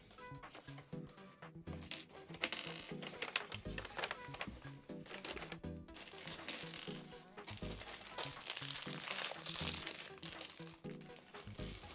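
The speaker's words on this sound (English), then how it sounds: "We do have a plastic bag in this one." A thin plastic bag from a LEGO Harry Potter Diagon Alley set (76444) is opened, giving off quiet, busy crinkling and rustling with small clicks of loose pieces, close up and with no talking.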